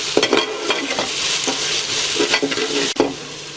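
About three spoonfuls of garlic-ginger paste frying in a pot for beef nihari, a loud close sizzle with repeated scraping stirs of a spoon throughout.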